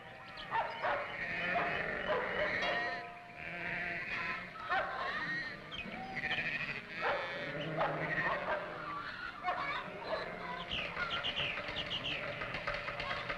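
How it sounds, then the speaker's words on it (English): Goats let out of their night enclosure bleat repeatedly and overlapping, a busy chorus of animal cries close by, with a dog barking now and then among them. "Our goats are let out of their night enclosure."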